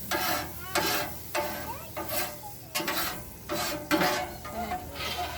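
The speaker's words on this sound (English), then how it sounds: "You get most of it off, you scrape it out, you put it in the back" Metal scraper rasping across a Blackstone flat-top griddle during cleanup after cooking steak and shrimp at camp, in repeated rough strokes with short pauses, close and fairly loud, alone without talk.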